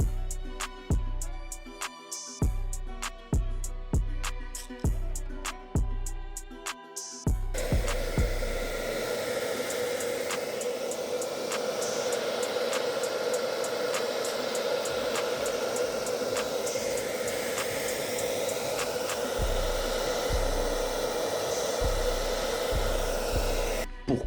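A dryer blows a steady, loud hiss over a repaired carbon Origine Axxome RS bicycle frame, starting after a run of sharp rhythmic knocks and holding steady and close to the end.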